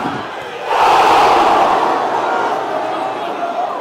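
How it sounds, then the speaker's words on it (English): Football crowd at a non-league ground in Scunthorpe applauding at full time after a 2-2 draw, a broad roar of clapping and cheering that swells suddenly and stays loud, with some voices mixed in. "Applause from the fans."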